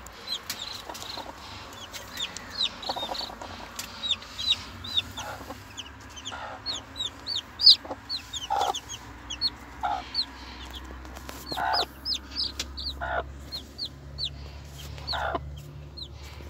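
Chicks and chickens cluck and peep nearby, with repeated short high cheeps scattered throughout and occasional louder clucks, set against a low steady background hum.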